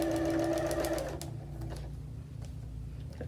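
Sewing machine stitching fabric along a marked line, a close, steady mechanical hum that slows and fades into lighter ticking and handling noises.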